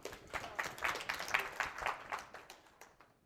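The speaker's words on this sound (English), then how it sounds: "Give you a round of applause." Brief applause and clapping from an audience at a 2020 conference opening keynote, a moderate wash of hand claps that swells and then fades out over a few seconds.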